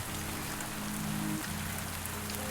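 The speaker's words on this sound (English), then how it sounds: "I love the sound of rain." Steady rainfall in the farming video game Pumpkin Days, an even soft hiss of drops that runs the whole time alongside a quiet low musical drone, with no talking.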